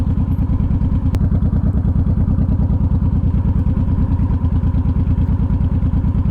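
A motorcycle rides over loose gravel, its engine a loud, close, steady rumbling chug mixed with continuous crunching clatter from the tires. One sharp click stands out early.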